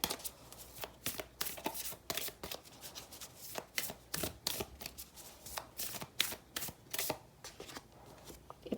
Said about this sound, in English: I keep shuffling and the same cards come out again.